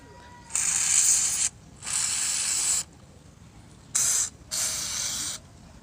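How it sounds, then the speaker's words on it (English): An aerosol can of Fluid Film rust inhibitor sprays onto Chevrolet HHR doors in four bursts, two longer hisses then two shorter ones, close and loud with quiet pauses between. "Just gonna go ahead and spray some fluid film on these things."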